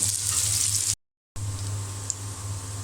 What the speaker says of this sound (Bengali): এখন আমি পেঁয়াজটা ভালো করে ভেজে নিয়ে বাকি মশলা দিয়ে দেব